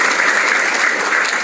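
A steady wash of audience clapping fills the hall at a health talk in Indonesia, dense and even from start to finish with no voices on top.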